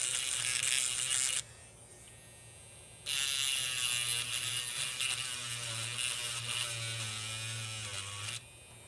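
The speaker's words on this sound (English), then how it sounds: "So I'm just going to use this little grinding pin." A small rotary grinding pin whines against a part on a laptop circuit board in two high-pitched bursts, separated by a short quieter pause.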